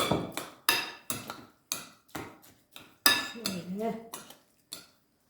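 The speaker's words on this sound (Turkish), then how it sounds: "Karıştırayım." Spoon stirring filling for stuffed vine leaves in a metal pot or bowl, a run of sharp clinks and scrapes in an uneven rhythm, close and fairly quiet, with a short murmur of talk midway.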